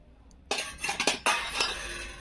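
Powdered sugar and oil whisked in a bowl for cake batter, the whisk scraping and clinking against the bowl in quick, uneven strokes with sharp metallic chinks, close and fairly loud.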